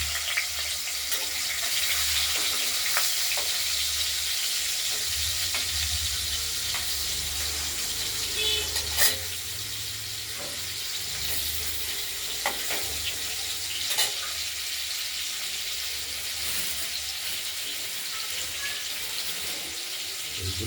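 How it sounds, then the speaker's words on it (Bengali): Pieces of freshly cut katla fish fry one by one in a pan for a fish curry, a continuous low sizzle with occasional clinks and light kitchen handling, faint voices in the background. "দেখতে থাকুন মাছগুলো একে একে ভেজে নেব।"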